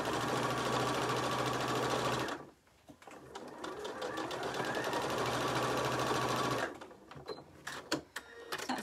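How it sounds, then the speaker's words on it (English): A sewing machine stitches down a fabric strip for a hot water bottle cover, running steadily for a couple of seconds, pausing briefly, then running again before a few handling clicks at the end. "So let's stitch that down."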